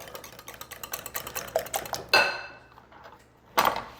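Egg bake ingredients being mixed in a bowl, with a series of quick clinks and scrapes of utensil against the bowl, then a louder knock near the middle and another toward the end.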